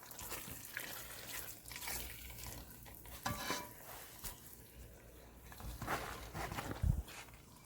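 A utensil stirs lobster and shrimp in a pan for pasta, soft scraping and wet sizzling shuffles close by, with a few louder clinks and knocks against the pan.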